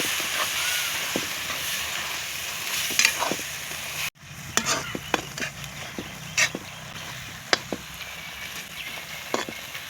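Ginger-garlic paste with chilli powder and rock salt sautéing in a pan, a soft sizzle with sharp intermittent scrapes and taps of a spoon, briefly cutting out and then resuming.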